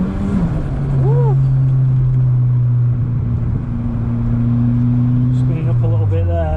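A Renault 21 Turbo's engine holding a steady drone that climbs slightly as it spins up, loud and close with an interior cabin feel, while people talk over it.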